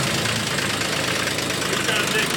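A small red tractor engine runs loud and close with a rough, knocking mechanical drone, and voices talk over it.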